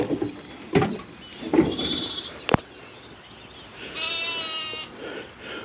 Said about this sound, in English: Who doesn't want to have a couple of calves and some baby goats in the morning calling to you for attention?